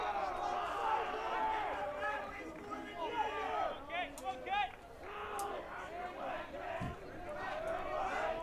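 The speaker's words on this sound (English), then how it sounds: "We have some jeers from the Salesianum crowd." Crowd at a high school boys' varsity baseball game, Salesianum against St. Mark's, with a steady babble of chatter and calls and a few louder jeering shouts rising from the stands midway through.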